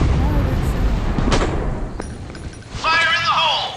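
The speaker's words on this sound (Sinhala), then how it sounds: "ඔන්න මහා බෝම්බ ප්‍රහාරය." A big bomb strike explodes in the video game Strike Ops, a heavy boom with rumbling blasts and gunfire layered under an excited voice and game effects, ending in a burst of electronic chirps.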